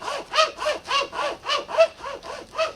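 A Fiskars hand saw rasps through the trunk of a standing tree in even back-and-forth strokes, roughly three per second, close and clear with no talking.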